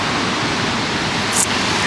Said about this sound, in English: And the waterfall's over here.